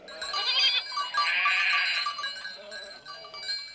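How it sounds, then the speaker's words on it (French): A small goat named Pie bleats in a long, wavering, nasal cry that rises and falls for several seconds, loud and close. "voilà Pie, ta chèvre"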